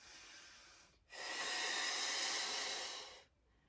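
A long, forceful breath during a Pilates exercise: a steady airy hiss that lasts about two seconds after a brief softer breath and a short pause, close and clear, with no speech.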